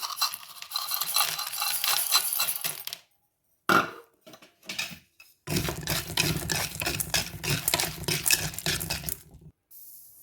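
Busy crackling and rattling of food roasting in a pan, loud and continuous, broken by a few brief pauses and short stirring clatters.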